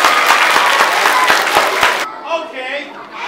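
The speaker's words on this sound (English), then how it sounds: "Give a clap, please!" Primary school children clapping together in a classroom during a times-tables lesson, a loud burst of rhythmic group applause lasting about two seconds before cutting off, followed by quieter voices.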